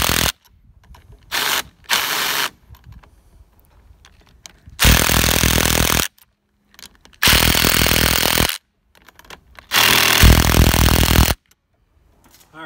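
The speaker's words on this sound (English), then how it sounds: "Got the 3/8 driver loaded up with a 1/2 inch deep well." A 3/8 power driver fitted with a 1/2 inch deep well socket tightens clamps on a driveway sign mount. It gives loud, close bursts of rattling impacts: a few short blips, then three longer runs separated by silence.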